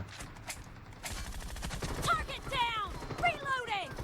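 Rapid bursts of Groza assault rifle fire in the mobile battle-royale game PUBG Mobile, a quick run of sharp shots followed by further crackling volleys, with a voice speaking over the gunfire.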